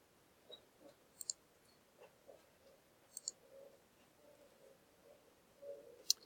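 Quiet, sparse clicks of a computer mouse during a graphics editing session, some single and some in quick doubles, spread irregularly over a faint background hiss.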